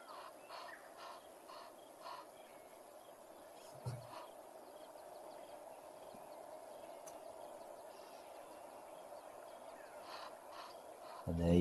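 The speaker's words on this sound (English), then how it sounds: "And there you could hear the Egyptian goose" An Egyptian goose calls from a distance in an African wildlife setting, a series of faint harsh honking, cawing notes over a steady background hum and insect noise.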